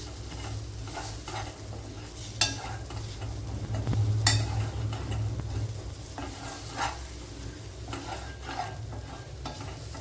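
Ground spice powders fry in hot oil for a drumstick leaf curry, giving a steady close sizzle with intermittent scraping stirs and a few sharp utensil clicks against the pan.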